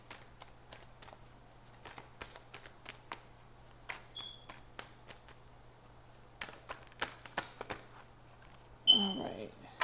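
Tarot cards are shuffled in quick, soft riffling bursts, close and fairly quiet, pausing briefly midway before resuming, while a person talks at a low level throughout.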